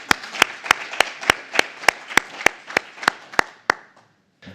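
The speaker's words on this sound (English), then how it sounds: "So would you please welcome him to the stage with a big applause" Sparse applause from an audience welcoming a speaker at a conference, heard as slow, evenly spaced loud claps about three per second that fade out near the end, fairly close and with no talk over them.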